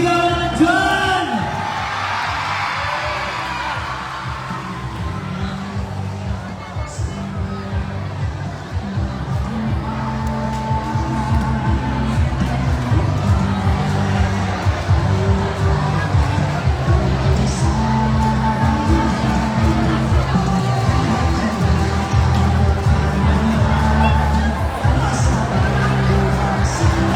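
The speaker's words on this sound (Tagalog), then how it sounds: "Isang malakas sa palakpakan ng isang sigaw na nandyan!" A crowd at a lively event cheers, whoops and yells in a dense, loud roar that swells and holds steady, with scattered clapping mixed into the babble and a voice over a loudspeaker now and then.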